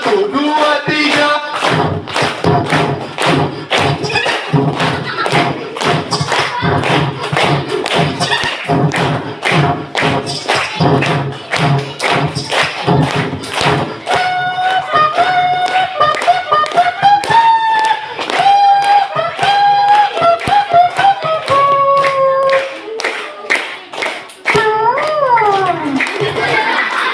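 Children at an outdoor storytelling session in a mangrove clap along in loud, rhythmic bursts, sharp repeated claps for much of the time, later mixed with singing voices and a presenter's lively speech.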